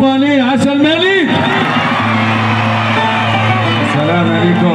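Large outdoor crowd at a folk music festival in Azrou, Morocco, cheering and whooping with sustained noise, with a singer's voice sounding loudly over it.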